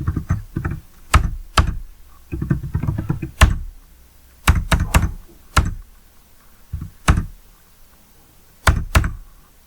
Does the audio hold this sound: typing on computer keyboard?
yes